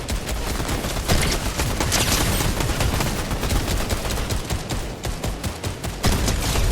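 Dense, sustained gunfire from a boss fight in Fortnite, a loud continuous fusillade of rapid shots that keeps going with only brief dips in intensity.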